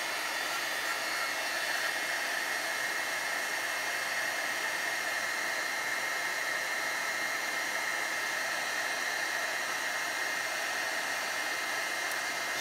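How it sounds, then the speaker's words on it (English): An embossing heat tool blows on shrink plastic, a steady, close airflow roar with a fan whine, unchanging and uninterrupted for the whole stretch. "And then I'm going to bring in just my regular heat tool. This is a heat tool that I use for embossing."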